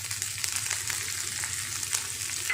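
Chopped onion hits hot oil in a pan while making roti noodles, giving a steady, close sizzle with faint crackles that runs without a break and without any talking.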